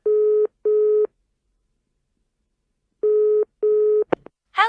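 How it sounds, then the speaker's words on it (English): A telephone ringback tone sounds on the line: two pairs of loud, steady electronic tone bursts separated by a pause of silence, followed by short clicks. "It's ringing for you now."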